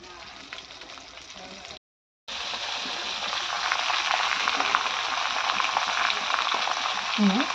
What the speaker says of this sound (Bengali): মশলাটাকে ভালো করে ভাজতে হবে।